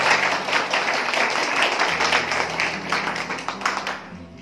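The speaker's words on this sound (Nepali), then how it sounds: "ताली बजाउ न जक्कैको लागि" A church congregation applauding during a sermon, a dense crowd of clapping hands that carries on for several seconds and then thins out, heard without talking.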